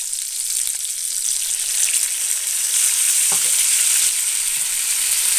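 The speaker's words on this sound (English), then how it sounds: "I've just turned the chop over and it's been frying for a couple of minutes." A pork chop fries in a pan with balsamic vinegar, giving a loud, continuous hiss and sizzle close by, with a few faint clicks and scrapes underneath.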